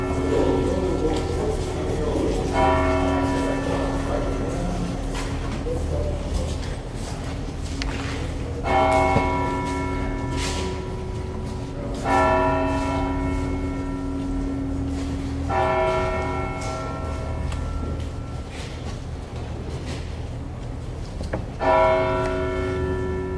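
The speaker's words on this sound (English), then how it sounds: "You hear the bell ringing, Megan?" A church bell tolls at 9 o'clock, several slow resonant strikes spaced a few seconds apart, each ringing out and decaying over steady background noise at an outdoor 9/11 remembrance.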